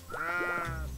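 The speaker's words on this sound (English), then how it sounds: "black sheep." A black sheep in the game Littlewood lets out one short, wavering bleat, near and clear, with no talk over it.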